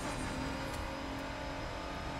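McLaren 12C supercar engine in a driving game, a continuous loud synthetic engine drone with a steady whine throughout, with no voices.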